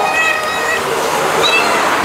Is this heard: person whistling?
no